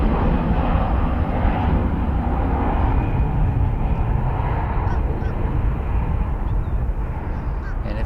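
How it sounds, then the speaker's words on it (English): A Boeing C-17 military transport aircraft idles its engines at Charlotte Douglas Airport, a loud, constant roar with a deep rumble that holds steady throughout and carries no pauses. "As I mentioned, we've got a C-17 running."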